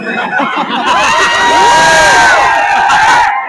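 A dense crowd of protesting MPSC students on a street shouts and cheers loudly and continuously, close at hand, with overlapping voices rising and falling.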